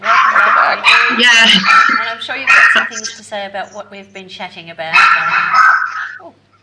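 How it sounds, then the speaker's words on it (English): Several dogs bark and yip repeatedly in the background, partly masked as people talk loudly over them in a webinar conversation. "sorry if you can hear my dogs barking"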